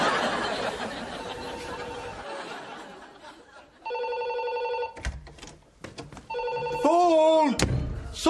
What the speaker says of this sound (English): Phone! Somebody answer the phone!